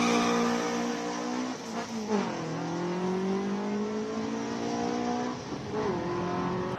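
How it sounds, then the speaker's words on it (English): A big V8 Piranha, a classic South African race car, runs at the Cape Town hillclimb with a loud, close engine note that rises through the gears, dips at each shift, then pulls hard again. "Next up, we're going to have a big V8 Piranha"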